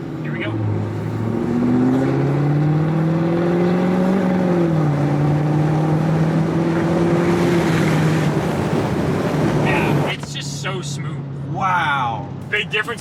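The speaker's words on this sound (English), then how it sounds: "I think we need to get a little bit of accelerations going" A tuned L5P Duramax single cab diesel truck builds speed with a rising, shifting engine drone under heavy wind rush, and people talk over it before the noise drops off near the end.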